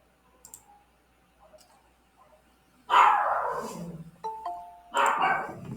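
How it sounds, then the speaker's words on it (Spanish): A dog outside barks loudly and close by in two sharp bursts, with quieter faint noises and a short ringing tone in between. "es un perrito que está aquí afuera, por eso ahorita intenté retirarlo, pero no se retira"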